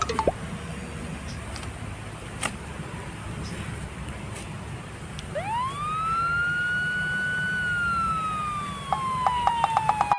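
A siren wails in rising and falling tones over a constant low rumble of traffic, with a few sharp clicks near the end.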